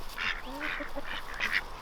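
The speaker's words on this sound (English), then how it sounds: "So these ducks here are Buff Orpington ducks." Buff Orpington ducks on a farm give a few short, raspy quacks close by, soft against a quiet outdoor background.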